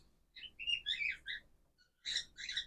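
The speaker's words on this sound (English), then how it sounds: "We got birds in the background that want to chime in." Small birds chirp and tweet in short bright bursts in the background of a quiet indoor setting, two clusters of calls separated by a brief pause.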